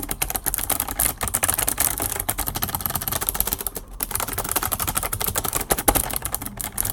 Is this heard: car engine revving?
no